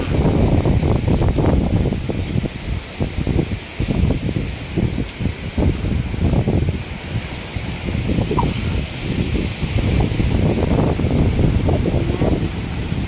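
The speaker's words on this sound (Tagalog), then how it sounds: "Medyo malakas po ang hangin. Pero pabugso-bugso lang naman." Strong, gusty monsoon wind buffeting the microphone in loud irregular rumbling bursts that swell and ease for several seconds, with rustling in the background and no rain heard.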